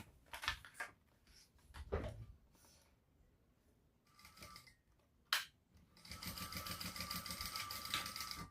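A sewing machine top stitches a shoulder bag: scattered handling clicks and short clattering starts, then a sustained close rapid stitching run for the last few seconds, no voices.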